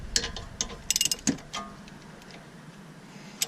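Wrench loosening two 13mm bolts on a Dodge Caliber SRT-4 during intermediate shaft removal: a few sharp metallic ratchet clicks and ticks in short bursts, close and fairly quiet, with pauses between.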